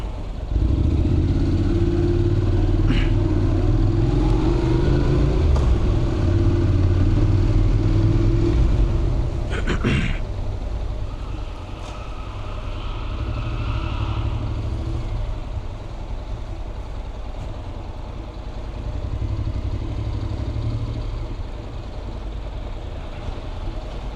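A Honda NC700X motorcycle is ridden on the way to work, giving a continuous low engine drone with steady wind and road rumble throughout. A brief clunk comes midway, and no one speaks.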